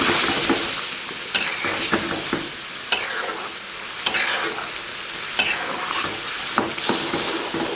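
Chicken karahi, Lahore style, fries in a pan with cumin and ground coriander while being stirred: a loud, continuous sizzling hiss broken by repeated sharp scraping and clacking strokes of the spoon at irregular intervals.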